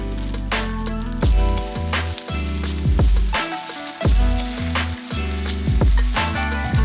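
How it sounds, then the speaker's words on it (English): Cod fillets fry in hot oil in a pan, giving a steady close sizzle and crackle. Brief scraping and stirring knocks recur over it, and no voices are heard. "then add the fish to the pan"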